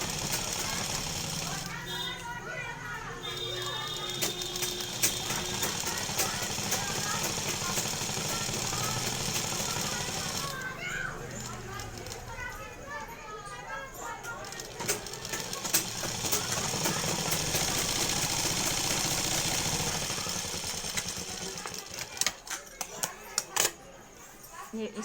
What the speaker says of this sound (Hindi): तो बिल्कुल सीधी सिलाई लगानी आप सीख लीजिए।